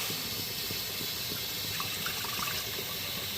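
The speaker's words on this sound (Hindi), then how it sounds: "यहाँ 1 बाउल के करीब पानी मैंने इसमें शामिल कर दिया है।" About a bowlful of water poured into a pot set over a high flame while making tamarind chutney, a steady splashing pour that runs continuously at moderate level with no talk.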